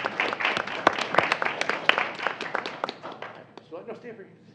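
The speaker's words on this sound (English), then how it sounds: "A round of applause for her family and friends here as well." A school board meeting audience applauds a student's family and friends, a short round of claps with distinct sharp hits that tapers off, a voice coming in near the end.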